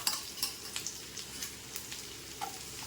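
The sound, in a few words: onions sautéing in a pan for paneer butter masala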